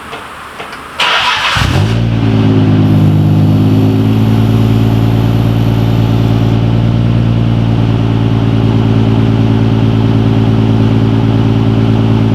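A Nissan Skyline R33 GTR with a new equal-length front pipe cranks briefly, catches and settles into a loud, steady, deep idle that holds close and unbroken, with no talking.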